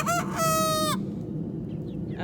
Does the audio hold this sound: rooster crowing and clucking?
yes